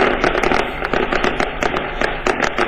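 Rapid crackling bursts of firecrackers set off by party workers at a political rally, dense irregular pops one after another, loud and close with no talk.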